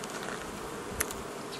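Honeybees buzzing on a frame pulled from a hive during a colony inspection: a dense, steady drone from many bees close by, with a couple of brief louder bursts as individual bees pass, no talking.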